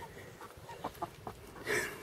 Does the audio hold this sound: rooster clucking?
yes